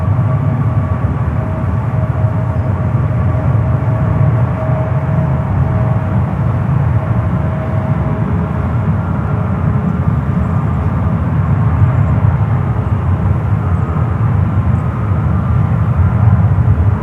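Jet engine roar from a United Boeing 757 at San Francisco International Airport, a steady, loud, low rumble filling the whole stretch with a faint whine riding on top, no voices.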